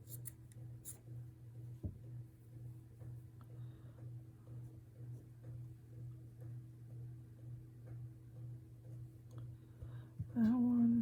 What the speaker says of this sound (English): I will cut off the excess on the outside